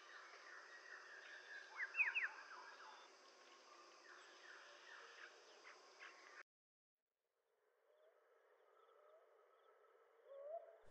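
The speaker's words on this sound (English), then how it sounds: "Hume's hawk owl is a medium-sized, dark brown owl with distinctive yellow eyes." A Hume's hawk owl calls in the Andaman Islands forest, giving faint repeated hooting notes amid other distant bird calls and a steady hiss of insects, cut by a brief silence and then further soft calls.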